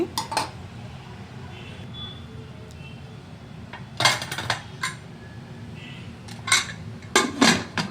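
Washed mung beans and lentils handled in steel kitchen vessels before going into a pressure cooker, with bursts of metal clanks and clinks spaced between quieter moments, close to the mic and without talk.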